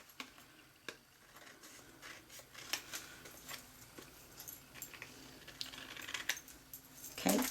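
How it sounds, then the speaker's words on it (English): Scissors trimming a piece of vellum down to size while making a Christmas peek-a-boo easel card, giving faint, scattered snips and paper rustles at close range with no talking. "Let me trim that down really quick."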